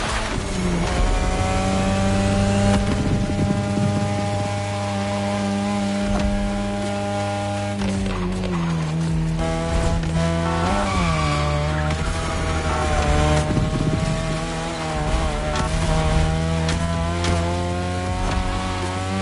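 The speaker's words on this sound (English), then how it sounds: "Tonight your ride is a 3rd Gen 2002 Mazda RX-7. Lightweight, compact, a sick rotary engine" A 2002 third-generation Mazda RX-7 with a rotary engine racing in The Crew Motorfest, its high buzzing rev rising and falling through gear changes, with tire squeal, loud and continuous.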